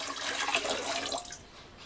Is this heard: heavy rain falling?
no